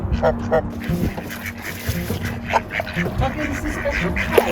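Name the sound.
goose by a canal narrowboat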